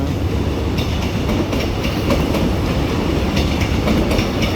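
Hitachi 4521 locomotive hauling Special Express train 9 into Lak Si station, a loud, close, steady rumble with rhythmic clickety-clack of wheels over rail joints.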